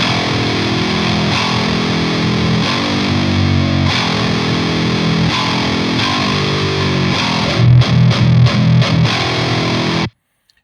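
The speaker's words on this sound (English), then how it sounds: "even in drop E, it sounds pretty clear" Heavily distorted Kiesel Crescent 8-string electric guitar tuned to drop E, with low, chugging riffs played steadily for about ten seconds, ending in a burst of rapid palm-muted hits before cutting off abruptly.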